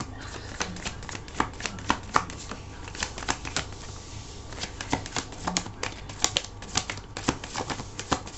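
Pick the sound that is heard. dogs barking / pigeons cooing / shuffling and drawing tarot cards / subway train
shuffling and drawing tarot cards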